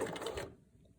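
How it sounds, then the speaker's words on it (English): A sewing machine stitches seam binding tape onto a fabric mask, whirring in a short close burst of about half a second before it stops, leaving faint room noise. "And we will stitch all the way to the end of the seam binding tape."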